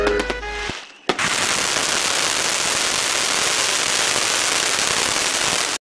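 A crackling mega cone firework fountain ignites after a brief quiet gap and then pours out a dense, steady hiss of rapid crackles and pops. The sound is loud and continuous for about five seconds, with no talking over it.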